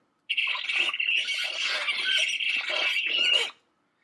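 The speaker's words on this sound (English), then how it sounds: "it kind of sounds like a disc scratching or something like that" A continuous high, squeaky scraping sound, like something rubbed to squeal, runs steadily for about three seconds and then stops abruptly.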